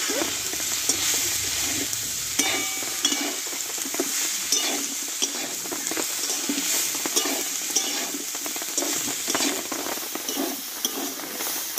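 Pointed gourd with slit green chillies and turmeric sizzles steadily in a pan, while repeated stirring adds close scraping and clattering strokes throughout.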